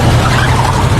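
Loud, continuous engine roar with screeching tires as a car speeds off during a robbery getaway in a heist film, sustained and close throughout.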